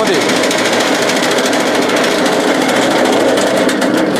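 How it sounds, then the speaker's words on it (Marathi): A chaff cutter machine chopping bundles of dry fodder gives a loud, continuous mechanical clatter with rapid rhythmic chopping pulses, close by. "वेळामध्ये ती पेंडी कुट्टी करून खाली टाकली"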